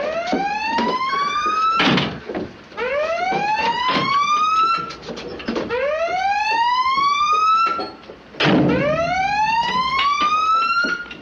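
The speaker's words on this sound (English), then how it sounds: "Sound collision alarm." Aboard a World War II submarine, a collision alarm sounds as a series of loud rising electronic whoops, repeating about every two seconds with metallic clanks in between.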